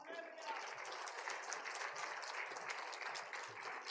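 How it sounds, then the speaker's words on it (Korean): A church congregation applauds in welcome, a steady, fairly faint wash of many hands clapping that lasts throughout. "큰 박수로 환영하겠습니다."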